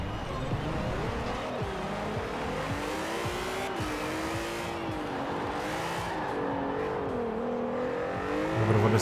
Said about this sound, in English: the VR6 in this game, anyway, sounds kind of good